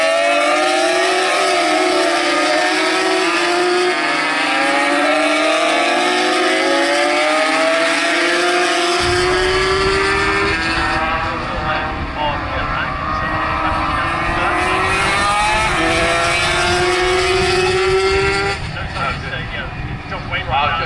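Racing motorcycles at a Snetterton GP Originals club race thunder past under a bridge, a loud sustained engine roar with rising and falling pitch as the leaders pass, under continuous commentary.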